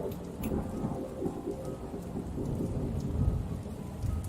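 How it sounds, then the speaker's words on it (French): A thunderstorm rages with heavy rain pouring steadily and deep thunder rumbling continuously underneath, loud and close throughout. "La foudre et le tonnerre s'alternaient sans interruption et il pleuvait fort."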